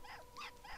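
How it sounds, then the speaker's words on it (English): A dog in Hitman: Blood Money gives two or three short, high yelping barks in quick succession, fairly faint over low background noise. "Bad dog. You are a very, very bad dog. Now you're just being loud."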